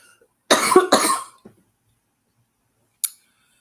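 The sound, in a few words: cough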